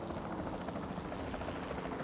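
Helicopter in the Jurassic World Evolution 2 park-building game, a steady rotor chop with dense engine noise holding at even loudness throughout, close and continuous with no talk.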